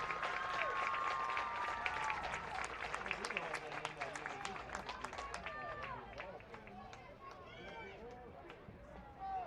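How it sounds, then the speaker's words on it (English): A stadium crowd at a high school football game applauds the homecoming chorus, dense clapping and cheering that stays loud and then gradually thins toward the end. "can we have a huge round of applause for our 2020 homecoming chorus?"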